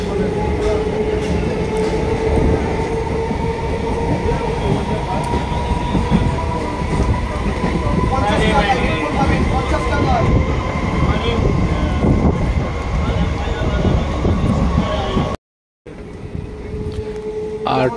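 A train travels steadily from Bardhaman toward Rasulpur with a loud, sustained rumble, clattering wheels and a drawn-out metallic squeal. The sound cuts out briefly near the end, then resumes.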